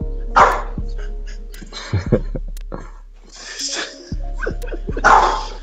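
An excited dog barking indoors, several sharp barks and snorting yips spread unevenly, close and fairly loud with a low steady hum underneath and brief human sounds between them.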